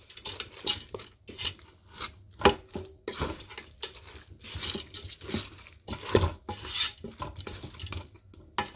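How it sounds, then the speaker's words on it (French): Ingredients for Moroccan harira are stirred in a Cookeo pot, with a utensil scraping and knocking against the inside in uneven, close strokes and short clinks, and no talking. "je vais commencer par mélanger tout ça"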